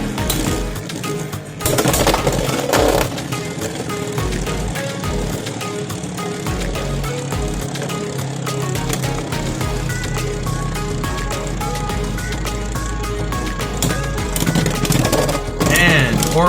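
Beyblade X spinning tops battle in a stadium, Horn Rhino against General Grievous, both on the 380 ratchet with spike and high needle bits, giving a loud continuous whirring buzz with scattered clicks and clashes.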